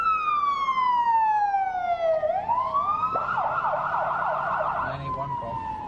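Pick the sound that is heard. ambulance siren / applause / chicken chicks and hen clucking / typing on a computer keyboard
ambulance siren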